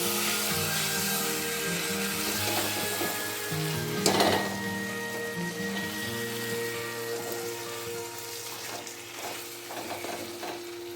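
Prawns frying in spiced oil for a coconut prawn dish give a steady, close sizzle, with scattered stirring clatters and one sharper knock partway through.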